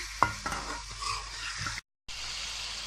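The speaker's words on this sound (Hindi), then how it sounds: "अब हम इसको 2 से 3 मिनट तक इसको फ्राई करेंगे ताकि टमाटर हमारे अच्छे से गल जाएं" Tomatoes and green chillies fry in a pan for chicken pulao, sizzling steadily while a spoon stirs and scrapes close by, with a brief cut to silence partway through.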